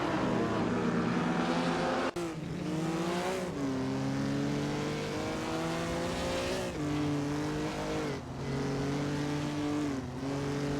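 Race cars speed around a track in a video game race, a Jaguar among them, their engines droning continuously at high revs with pitch shifts as gears change, loud and close, with no voices over it.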